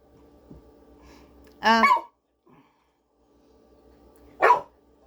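A dog barks twice indoors in a home kitchen during cooking, two short loud bursts a few seconds apart over a faint steady hum, with no talking.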